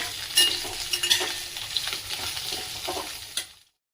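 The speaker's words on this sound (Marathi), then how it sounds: "कांदा चांगला परतून घेऊया." Chopped onions sauté for a paneer curry, sizzling close and steadily while a spoon scrapes and stirs in irregular strokes, and the sound cuts off abruptly near the end with no talking.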